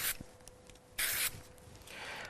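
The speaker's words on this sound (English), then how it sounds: "Little spray of the glue again." Short hissing bursts of spray glue aimed at a craft stencil, two or three quick sprays with quieter rubbing between them, close and fairly soft, with no voices.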